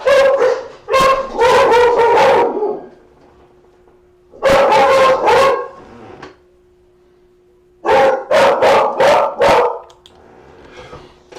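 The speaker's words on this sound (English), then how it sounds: "Sorry about the dog." A dog barks indoors in three loud bursts of rapid, repeated barks, separated by short quiet gaps with a faint steady hum.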